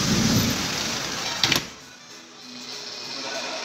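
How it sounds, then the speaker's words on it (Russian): Heavy rain pours in a steady dense wash during a thunderstorm, with a brief sharp crack near the middle before the downpour eases into a softer, quieter hiss. "Ливняра такой и гром с молнией."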